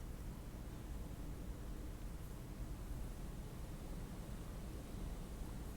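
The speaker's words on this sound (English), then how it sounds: "The white noise howls." Steady, hissing white noise fills the scene in the Disco Elysium video game, a flat, unbroken rushing wash that stays even and moderately loud throughout.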